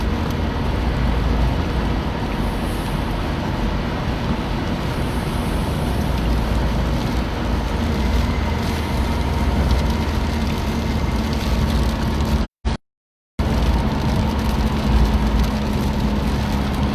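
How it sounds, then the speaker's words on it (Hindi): Heavy rain pours steadily on the road from Mecca to Al-Hada, a dense continuous hiss with traffic rumbling underneath and a brief cut to silence near the end. "बारिश ज़्यादा"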